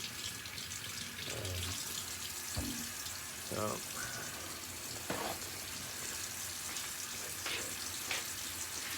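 Water runs steadily from a tap into a sink in an artist's painting studio, a continuous hiss under faint mumbled speech and small clinks.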